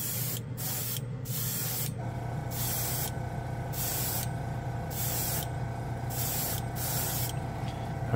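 A paint spray gun laying down a wet coat of color-shift chameleon paint: a loud, close, continuous airy hiss in long passes, separated by several brief pauses as the trigger is released.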